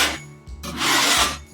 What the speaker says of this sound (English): give it a little good old scrape.